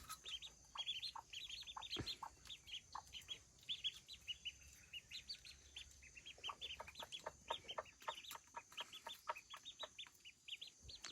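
Growing ducklings kept with a mother hen keep up a busy chorus of bright, high cheeps, many short calls overlapping at close range, soft but continuous, with no voices over them.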